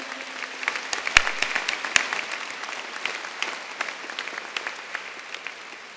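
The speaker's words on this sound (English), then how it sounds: "Please give a round of applause" A crowd at a university commencement applauds steadily, with many hands clapping at once and a few sharper claps standing out, sounding a little distant.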